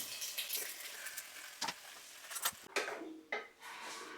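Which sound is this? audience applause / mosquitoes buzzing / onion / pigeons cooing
onion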